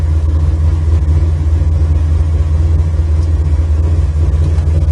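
A 1967 Chevrolet Chevelle engine runs with a loud, steady, close low rumble, heard inside the car, with no revving and no one talking.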